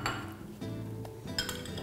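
Half a carrot and papaya pieces dropped into a blender jar for a skin-health juice, giving a few close, hard clinks and knocks against the jar with short clattering pauses and no talking.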